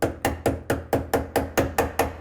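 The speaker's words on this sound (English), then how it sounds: "I'm just going to throw in 2 staples." Staple gun firing into shiplap boards for a fireplace build, ten sharp, evenly spaced snaps in quick succession, close and loud, with no talking.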